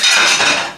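A brief, bright clatter of dishes knocking together in a kitchen during cooking, ringing metallic and ceramic tones up close that fade out quickly.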